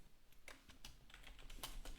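Quiet, close keystrokes tap out a command on a computer keyboard in quick irregular bursts during a Docker deployment setup, with no talking.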